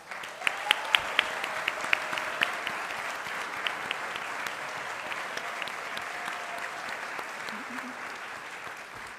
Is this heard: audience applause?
yes